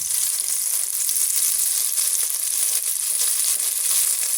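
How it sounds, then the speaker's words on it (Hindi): Butter with a little oil melts in a pan, giving a steady, bright sizzle and crackle that runs unbroken throughout at close range, with no voices. "पैन में बटर ऐड करूँगी। बटर में मैंने थोड़ा सा ऑयल ऐड किया था, इससे बटर नहीं जलता।"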